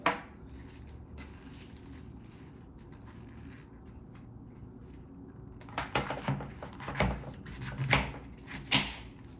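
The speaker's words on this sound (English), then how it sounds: "So here's the bok choy. So I'm just gonna make a slice right through here." Knife cutting through a large head of bok choy on a board: a few crisp crunching slices and scrapes close by, rising over quiet room tone in the latter half.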